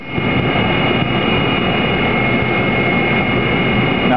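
A Walter CNC5 saw blade grinding machine runs with a loud, steady mechanical roar and whine, a constant industrial drone that holds level from start to finish with no talk over it.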